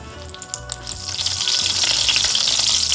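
Unsalted butter melting in a pan and sizzling, the frying hiss building to a steady, fairly loud crackle after a few light clinks.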